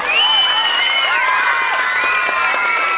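A school audience of children at a 23 April primary school festival cheers and claps, a dense, loud wash of high shrill shouts and whoops over continuous applause.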